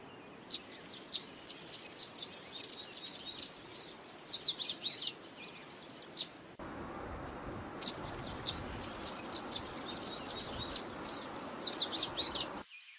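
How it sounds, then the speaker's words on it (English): Yellow warbler song, a rapid series of high, sweet chirping phrases repeated over a soft, noisy outdoor background, with faint insect-like buzz, and no talking. "Yellow warbler."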